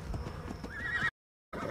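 A horse in the video game Ark: Survival gives a short whinny, close and clear, with light hoof clops, then cuts to silence before resuming briefly.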